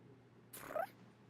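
A voiced meow from the cat girl Kirara in the video game Genshin Impact, imitating a cat: one short rising cry, clear and close, with no other sound around it.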